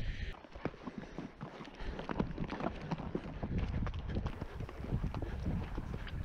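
Pack horses picking their way over rough, rocky backcountry ground on a pack trip, hooves clopping and scraping in an uneven rhythm up close, with wind buffeting the microphone and creaking gear.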